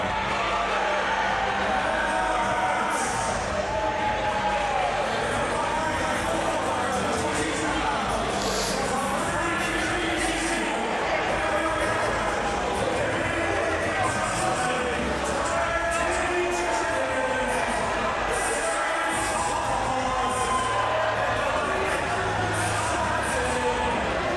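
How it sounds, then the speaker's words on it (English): Wrestling crowd at a tag team match roaring and cheering continuously, a dense wash of voices that stays loud throughout with faint announcer talk mixed in. "The crowd's going wild for these furry creatures."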